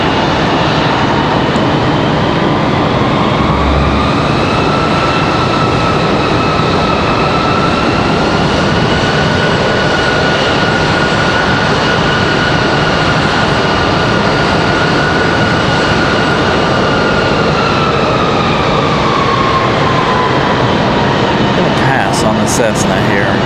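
A Cessna aircraft arriving from Nantucket at Raleigh-Durham airport drones loudly and steadily, its engine tone sliding gradually as it nears, with voices talking over it.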